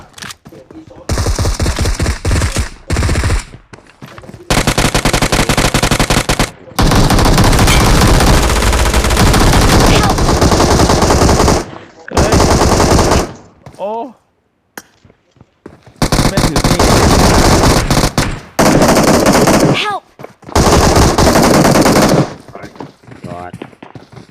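Loud, close automatic gunfire from the video game PUBG Mobile rattles in long sustained bursts separated by short silences.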